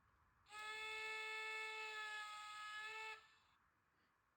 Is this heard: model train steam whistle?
yes